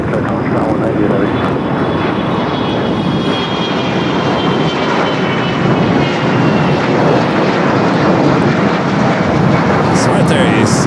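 Heavy jet taking off from runway 25 right at Los Angeles International Airport, a loud, continuous engine roar filling the whole stretch, with radio chatter and talk over it.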